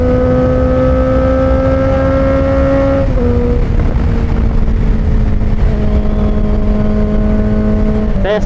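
A Honda CBR650R motorcycle on a test ride, its engine droning loud and close with a steady tone that shifts pitch as gears change, plus a rushing wind noise and no talk.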